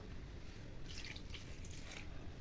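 A little water is poured into a cooking pot for prawn fry in a short, quiet splashing stream, trickling and dripping for about a second against a low background hiss.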